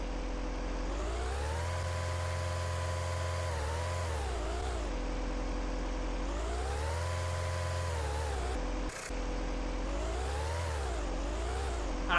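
A car in the Minecraft car mod starts up and drives through a city, its simulated engine droning steadily with rising and falling revs as it accelerates and slows, loud and continuous with no talk.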